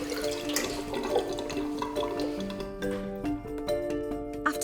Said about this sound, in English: When I take my hand off, water should just disappear.